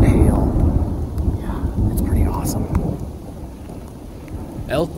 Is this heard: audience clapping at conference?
no